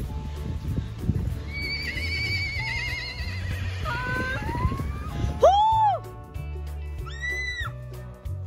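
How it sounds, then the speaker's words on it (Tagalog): A horse neighs loudly nearby on a rural mountain hiking trail, a rising and falling whinny, then a second shorter whinny follows, over a low background of outdoor murmur. "Ayun, may kabayo."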